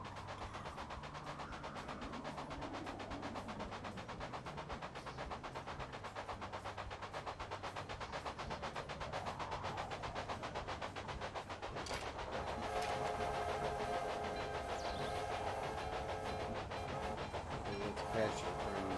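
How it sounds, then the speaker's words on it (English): A train running along tracks in the railroad simulation game Railroad Empire, a steady low rolling rumble with faint rhythmic clatter that swells slightly in the second half, heard alone without talk. "a train coming in from the north that has supplies."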